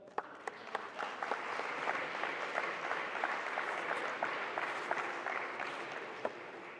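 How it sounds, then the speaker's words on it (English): A crowd at a college sports awards ceremony claps steadily throughout, a dense, even applause with a few louder individual claps standing out near the listener. "Clap it up, clap it up."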